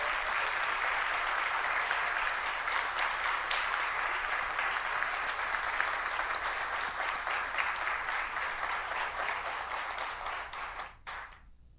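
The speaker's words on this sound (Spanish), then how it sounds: "el aplauso fuerte de esta mañana" Loud sustained applause fills a university hall in Cali during an honorary doctorate ceremony, a thick steady roar of many hands that gradually thins and fades out near the end.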